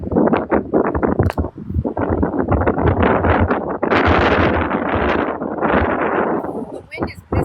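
Gusts of wind buffet an outdoor microphone in loud, rumbling bursts that surge and fade, with a person talking over the roar.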